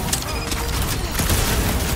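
Sustained gunfire in Marvel's Guardians of the Galaxy, a dense, continuous barrage of shots and mechanical clatter aimed at a large robot, loud and busy throughout with game voices mixed underneath.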